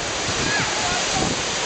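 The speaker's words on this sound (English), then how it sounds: "Here's the waterfall." Waterfall at Stony Brook Park, a steady broadband rush of falling water that holds constant and fairly loud throughout, with no distinct breaks.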